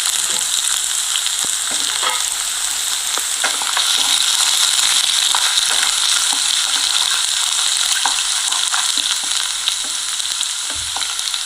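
Ginger and garlic frying in hot oil for a lemon and date pickle, a dense continuous sizzle with scattered crackles and a few spoon stirs, close and steady throughout, no talking.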